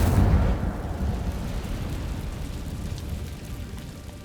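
A fire spell cast in Hogwarts Legacy bursts with a loud whooshing flare at the start, then settles into a crackling, rumbling roar of flames that slowly fades.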